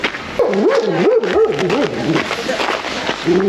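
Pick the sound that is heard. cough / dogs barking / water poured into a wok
dogs barking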